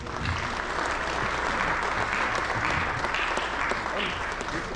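A church congregation at a funeral service claps together in a sustained round of applause, dense and steady throughout, with voices faintly mixed in beneath.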